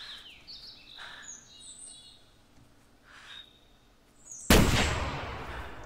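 A single loud hunting rifle shot cracks out in theHunter after a quiet stretch of bird chirps in the woods, its boom trailing off afterward.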